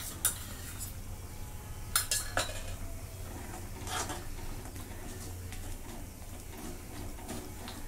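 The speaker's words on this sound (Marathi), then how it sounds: "मी 2 चमचे दही घेतलेलं आहे, ते फेटून घेतले, ते मिक्स करून घेते" Spoon whisking two spoonfuls of yogurt in a bowl, with repeated faint clinks and scrapes of metal against the dish, quiet and close with no talking.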